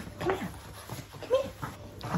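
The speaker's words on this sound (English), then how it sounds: "we're babysitting my mum's dog for Christmas." A dog whimpers in short, high whines, two clear cries about a second apart, close by and soft, with faint background shuffling.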